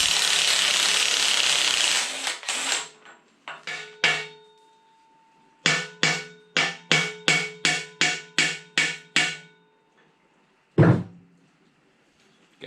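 Pneumatic impact wrench zapping off the pinion yoke nut on a Dana 60 axle: a long hiss of air, then short bursts and a string of about ten sharp rattling hammer pulses, with a final burst after a pause.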